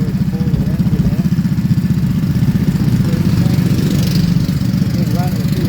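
A vintage snowmobile engine runs at a fast, steady idle at an outdoor show in Pequot Lakes, Minnesota, with a close, loud, buzzing rhythmic putter and faint voices behind it.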